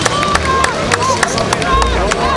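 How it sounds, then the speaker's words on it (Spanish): An audience claps and cheers for the Mexican Electricians' Union (SME) and CAMPAC at a Pastores por la Paz gathering, a dense patter of hands mixed with crowd hubbub and overlapping voices throughout. "Un aplauso para ellos, por favor"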